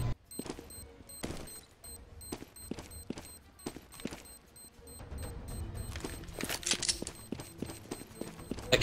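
Gunfire in CS:GO: a steady run of quick, sharp shots crackles throughout, with bursts clustering toward the end over faint background game noise.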